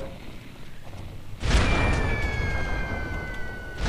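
Airship cannon fire in the Air Buccaneers game, a sudden loud boom midway through that gives way to a sustained roaring wash with a whistling tone over a quieter lead-in.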